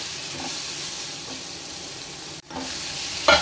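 Chicken liver gravy ingredients sautéing with rock salt in a pan give a steady close sizzle with faint stirring scrapes, a brief dip near the end, then a louder stir.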